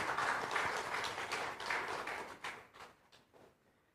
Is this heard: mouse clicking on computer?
no